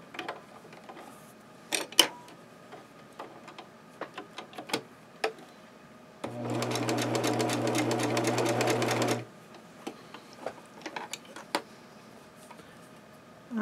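A sewing machine stitching around the bottom of a rag doll's foot: a steady, rapid mechanical chatter lasting about three seconds, close and clear, set between quiet handling clicks and taps.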